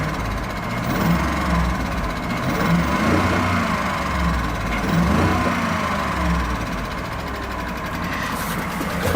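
2018 Ford F150 engine idling with a suspected top-end fault, a steady close rumble carrying faint repetitive ticking throughout, with no talk.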